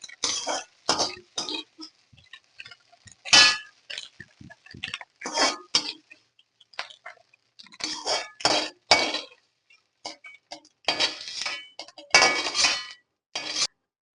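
Metal spoon scraping and clinking against an aluminium pan as fried egg for street-style chicken egg fried rice is scooped into a bowl, with irregular bursts of clatter and pauses between them, close and fairly loud.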